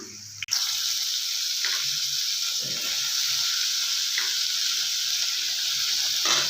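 Tomatoes drop into about two spoons of hot oil in a pan and sizzle with a steady, bright hiss that holds evenly from the start, with no talk.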